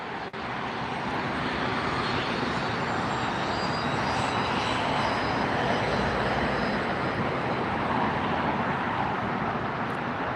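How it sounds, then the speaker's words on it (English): A large passenger jet approaches LAX airport with a loud, sustained engine roar that holds steady and near throughout, with no voices. "Got an aircraft coming in that's going to go right past it"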